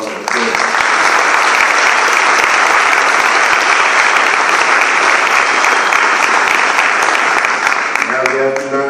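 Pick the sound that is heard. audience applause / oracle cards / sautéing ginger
audience applause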